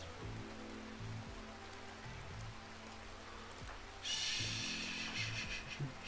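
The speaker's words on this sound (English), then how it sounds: "and it's raining, so" Rain falls in the colony game RimWorld as a soft, continuous hiss beneath a looping in-game music bed, with a brighter burst of noise partway through.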